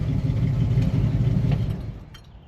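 An abandoned small block Chevy hot rod engine idles with a steady low rumble, close and loud, easing slightly toward the end.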